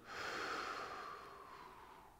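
A strong, breathy exhale runs steadily through a sacroiliac and pelvis exercise, tapering slowly as the breath is let go. The sound is close and fairly loud, with no talking over it.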